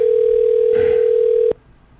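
A steady telephone dial tone on a radio call-in line hums loudly and continuously, then cuts off abruptly with a click after about a second and a half.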